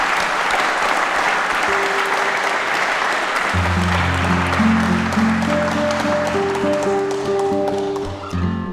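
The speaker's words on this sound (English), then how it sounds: "one more round of applause for Ben as he leaves the building" A concert audience applauds a departing performer, steady dense clapping from a crowd that carries on throughout, while sustained tonal notes enter partway through beneath the clapping.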